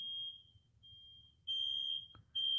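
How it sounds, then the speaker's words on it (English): A household smoke alarm, set off by food burning in the kitchen, sounds a steady high-pitched electronic tone that drops in level and then returns loud, with a brief click, heard from a nearby room with no talk. "I don't know if you can hear the fire alarm."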